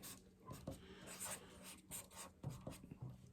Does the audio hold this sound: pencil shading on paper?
yes